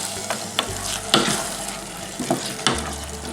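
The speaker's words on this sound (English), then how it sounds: "Alright, the onions are starting to sweat." Onions and a can of cheap tinned tomatoes frying in a pan for lasagna, with a steady sizzle broken by several sharp stirring scrapes and clatters, close and alone.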